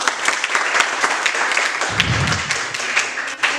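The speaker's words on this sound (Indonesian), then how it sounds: "Ya, tepuk tangan untuk kelompok 3." A classroom applauds a presenting group of students, a moderate burst of scattered hand claps with a brief low thump partway through.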